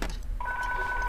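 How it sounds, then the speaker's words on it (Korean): An office telephone rings with a steady electronic two-tone trill that starts partway in and holds, clear and fairly close, over low room noise while someone works on fitting a printer part. "아, 이 순간에 또 전화가 오네."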